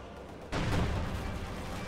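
A German Pak anti-tank gun fires a single sharp, booming shot in a Company of Heroes 2 battle on a city map, with the report's tail rumbling on for over a second under faint background battle noise.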